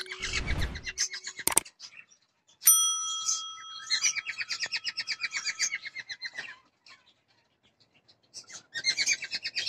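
Small birds sing during a courtship display, bright repeated chirping phrases coming in bursts with short silent gaps, fairly close and clear, with a brief rustle at the start and no talking.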